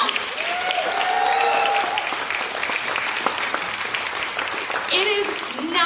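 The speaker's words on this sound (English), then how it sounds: "I want everybody to give a huge round of applause for all the readers that joined us in the first round" An audience at a poetry slam breaks into loud, steady applause for the readers, a dense crowd of clapping hands with cheers and voices rising over it, near and continuous.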